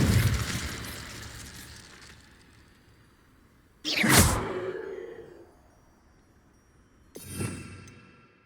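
Incendio fire spell cast in a wizard video game: a sharp fiery burst with a whooshing, crackling tail, then a second smaller burst a few seconds later, loud against a quiet background.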